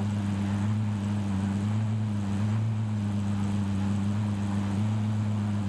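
Helicopter in Call of Duty Warzone, a steady droning rotor hum with strong low tones that holds level and close for the whole stretch, with no voices.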